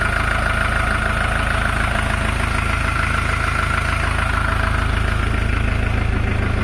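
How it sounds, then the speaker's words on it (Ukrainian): A Skaut TE 504 S mini-tractor's engine idles steadily and quietly up close, a continuous low even rumble with no talk over it. "Мотор працює рівненько, тихенько"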